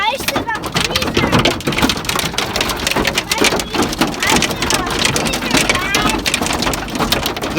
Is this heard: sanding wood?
no